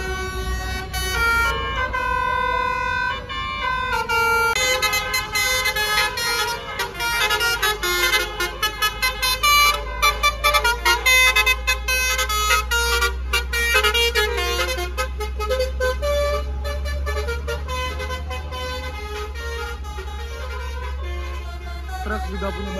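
A basuri musical bus horn plays a melodic tune over and over without pausing, loud and close against a steady road rumble, with a few sharp honks partway through.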